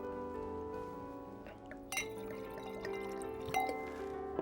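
A glass of wine is poured and clinked, with faint liquid trickling and a few light, sharp glass clinks over soft background music.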